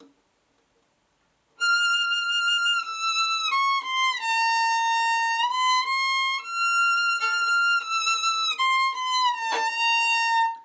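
A bowed violin plays a slow melody of sustained notes with uneven bow pressure, the tone wavering and cracking briefly between strokes.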